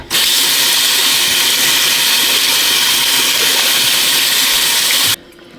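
Tap water runs steadily over a vacuum cleaner's plastic dust container, a loud, even rushing hiss lasting about five seconds before cutting off abruptly.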